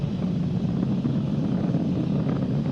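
Falcon 9 rocket engines (Merlin 1D) roaring during supersonic ascent near max Q on the crewed DM-2 launch, a steady dense broadband rumble that holds constant throughout with no voices.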